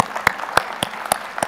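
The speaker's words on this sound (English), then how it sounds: "that's worth clapping for" A handful of isolated, sharp claps ring out at an industry association's conference opening address, about five scattered hits spread across a moment rather than full applause.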